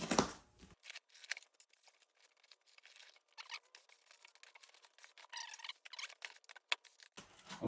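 A cardboard shipping box holding Leadshine AC servo motors is opened with soft, intermittent scrapes, crinkles and tearing rustles, faint and close, separated by quiet gaps.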